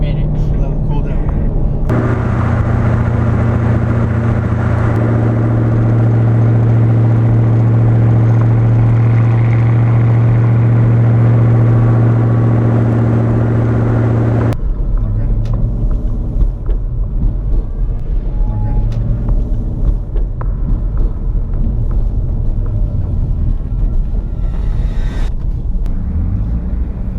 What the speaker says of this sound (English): Yeah, 10 more minutes of freeway driving.